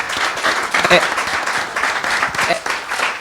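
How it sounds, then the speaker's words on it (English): An audience at an annual summit conference breaks into applause, steady clapping filling the room at moderate loudness for a few seconds. "Let's give them a round of applause."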